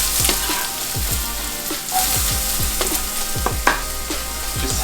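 Chopped onion dropped into canola oil in a hot pan sizzles and crackles steadily at close range, with sharp pops and stirring scrapes scattered throughout and no voices.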